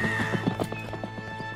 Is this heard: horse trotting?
yes